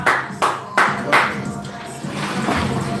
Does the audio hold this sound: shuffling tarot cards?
no